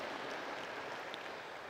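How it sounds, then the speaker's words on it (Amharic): Audience applause at a book launch held in a church in Hawassa, a dense, steady wash of clapping from a crowd lasting the whole short stretch without any voices. "ለራሳችሁ አጨብጭቡ።"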